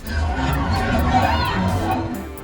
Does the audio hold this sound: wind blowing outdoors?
no